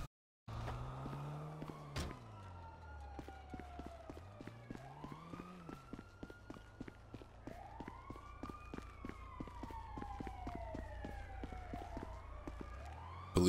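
Wailing police car sirens in the video game GTA V, repeated rising and falling sweeps sounding continuously over a low vehicle rumble and a rapid ticking patter.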